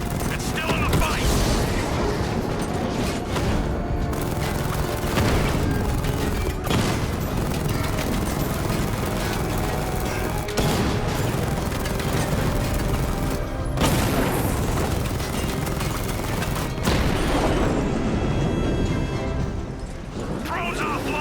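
A combat drone fight in Batman: Arkham Knight: loud, dense bursts of gunfire and booming explosions run throughout, with game voices speaking over the din.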